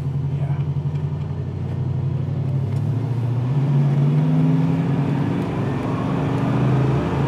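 A 1979 Pontiac Trans Am accelerating on a test drive, the engine note climbing steadily, dipping at a gear change and then rising again, heard loud from inside the car over road rumble.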